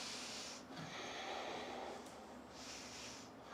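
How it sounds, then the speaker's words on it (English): Slow, deep breaths during a yoga practice, a close, soft airy rush of inhaling and exhaling that swells and fades in long waves, with no talking. "5 deep breaths here."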